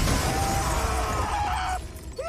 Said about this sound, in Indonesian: tubuh Daniel jatuh menghantam kaca depan mobil dengan benturan yang sangat